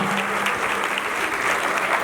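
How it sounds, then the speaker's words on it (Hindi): Dense, loud applause from a gathered crowd at a Jain community ceremony, continuous clapping filling the whole stretch without letup. "तालियां बजनी चाहिए, देखिएगा"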